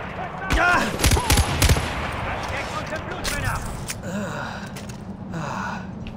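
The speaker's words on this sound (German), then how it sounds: "Warum schießen die denn auch so präzise?" Enemy gunfire in the video game Far Cry 4 crackles in short bursts of rapid shots, loudest early on and then sporadic, mixed with a man's gasps and sighs and some talk.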